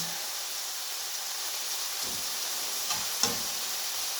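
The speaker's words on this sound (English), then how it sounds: "So we'll just fry that off for a sec." Chicken frying in a pan for a chicken and leek pie, a soft steady sizzle and hiss with a few faint clinks of stirring near the end.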